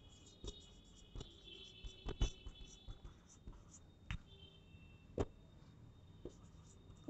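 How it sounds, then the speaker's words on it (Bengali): Pen strokes and taps on paper while notes are written during a class on the Indian Constitution, quiet scattered scratches and clicks at an uneven pace with a faint steady high hum behind them. "ফাইনালি আমরা লিখব আরও একটা পয়েন্ট, লিখি স্বরণ সিং কমিটি"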